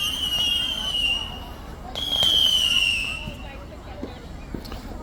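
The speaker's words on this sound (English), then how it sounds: "There's other fireworks in other neighborhoods." Fourth of July neighborhood fireworks: two long whistling rockets climb and fade, then scattered pops and crackles, moderately distant, with faint voices in the background.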